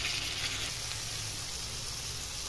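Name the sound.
tomato pieces sizzling in hot pan for gongura prawn curry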